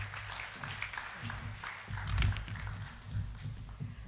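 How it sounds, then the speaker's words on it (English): Applause from an audience in a hall after a speaker finishes her remarks at a Generation Unlimited Nigeria event, a steady rustling patter of many hands that swells briefly midway, with no voices over it. "Please, another round of applause for her."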